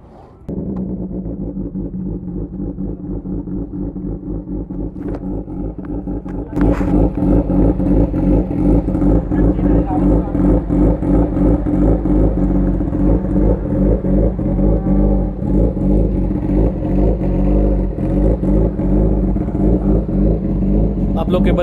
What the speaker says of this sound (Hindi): मैं एक बार बाइक को पार्क कर दूँ भाई, बहुत बहुत हेवी बाइक है